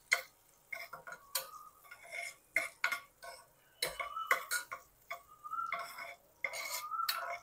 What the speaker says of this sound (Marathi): आता आपण हे सर्व थोडंसं परतून घेऊया।